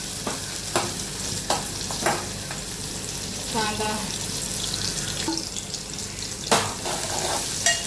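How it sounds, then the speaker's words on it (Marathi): Onions, with chillies added, frying over high heat until brown, giving a loud, steady sizzle with repeated spatula scrapes and stirring knocks against the pan, and no one speaking. "कांदा शिजवायचा आपल्याला, जरा ब्राऊन करायचं आहे"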